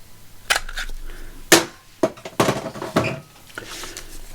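Sharp clacks of a 1.5 inch craft hole punch cutting paper, several distinct snaps spaced about a second apart with some light handling rustle between, close and alone.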